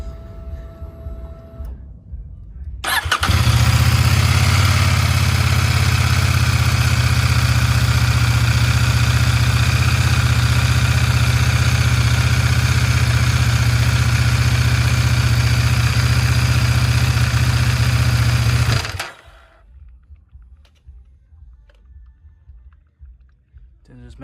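A CFMOTO 800NK motorcycle engine, just refilled during an oil change, starts and idles with a steady, loud even drone for about fifteen seconds, then shuts off, leaving quiet background noise.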